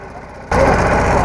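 A boat engine chugging on a river trip along the Chenab in Pakistan, a low, steady pulsing throb close by that is suddenly swamped halfway through by a loud broadband rush.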